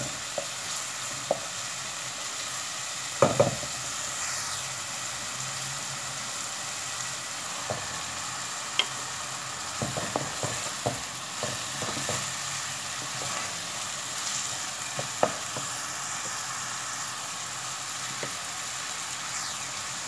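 Onions sizzle steadily in a pan for a pomme boulangère dish, with a constant moderate frying hiss and occasional spoon scrapes and clicks, and no talking.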